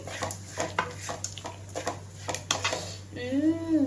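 A spoon scrapes and clinks against a pan while tomato rice is mixed after the stove is switched off, with a repeating rhythm of stirring strokes and a soft residual sizzle.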